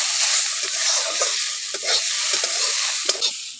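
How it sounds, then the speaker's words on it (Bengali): Chopped potatoes fry with turmeric powder in a pan, giving a loud, dense, continuous sizzle up close with light stirring scrapes running through it. "হলুদ গুঁড়ো দিয়ে ভালো করে আলুটাকে একটু ভেজে নিচ্ছি"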